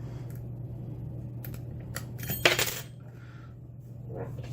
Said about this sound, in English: And I tossed my tension wrench.